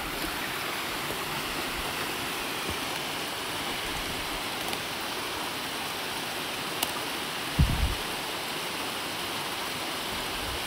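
Steady rushing water, a broad continuous roar like a waterfall heard from nearby, with a brief low thump partway through and no talking.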